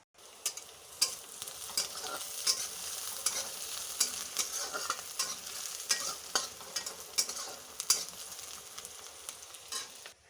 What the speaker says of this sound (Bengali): দেখো পেঁয়াজগুলো লাল লাল হয়ে ভাজি হলো